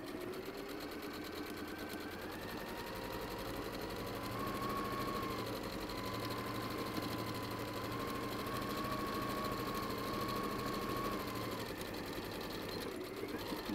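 A sewing machine runs steadily while back-stitching fabric, a continuous mid-pitched mechanical whir and rapid needle clatter that holds evenly for over ten seconds with no talk.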